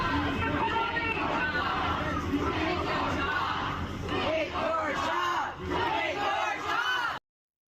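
A loud crowd shouts and yells at a street protest, a dense roar of many voices with cheers rising and falling, steady and close throughout, cutting off abruptly near the end.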